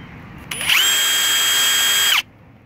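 A Ridgid Octane 1/2-inch cordless impact wrench spins up freely for about one and a half seconds, a loud, steady, high-pitched motor whine close to the listener, then stops abruptly.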